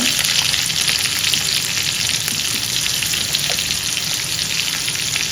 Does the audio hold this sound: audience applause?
no